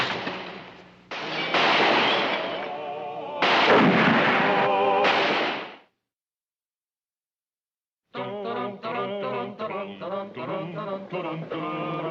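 Gunfire in a shootout in a TV sitcom scene: two long, loud bursts of dense firing, then a short silence and a run of sharp, rapid shots.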